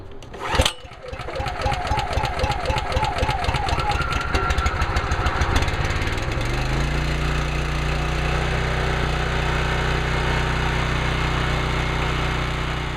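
A NorthStar 3300 PSI gas pressure washer engine cold-started on full choke: a sharp pull-start burst, then rapid chugging firing that catches and settles into a steady, loud, continuous engine drone with no talk.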